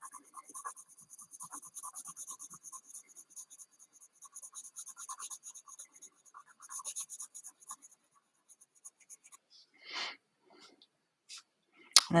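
A pencil scratches and strokes across paper while sketching a bee, producing soft, steady rhythmic rasping close up that thins out into sparse light marks, with brief talking in between.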